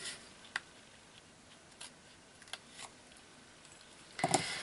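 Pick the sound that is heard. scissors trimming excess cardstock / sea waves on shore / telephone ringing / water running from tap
scissors trimming excess cardstock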